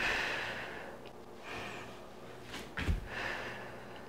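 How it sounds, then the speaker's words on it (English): Breath pushed out steadily during an osteoporosis and bone-strengthening workout, with soft airy exhales and one sharper gust near the end, close and moderately quiet, with no talking. "Exhale through."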